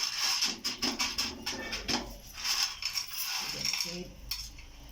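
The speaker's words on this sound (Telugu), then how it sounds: "పెట్టిన తర్వాత ఈ విధంగా పెంక పైన వేయిస్తున్నానండి" Soaked tamarind seeds dry-roasting on a pan, stirred so the hard seeds clatter and rattle against the metal in uneven bursts of clicks and scrapes, close and fairly quiet, with no talking.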